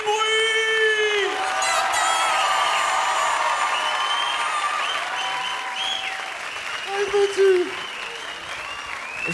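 A TV studio audience on a French talent show for children applauds and cheers loudly and steadily, with whoops and a host's voice calling out over the crowd noise.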